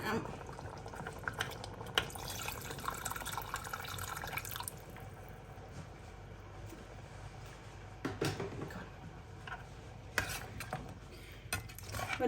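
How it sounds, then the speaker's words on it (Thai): A pot of food on a home stove simmers and comes to a boil, bubbling and popping unevenly with small drips and splashes, while a voice talks intermittently over it. "รอให้เดือดแป๊บจ้ะ"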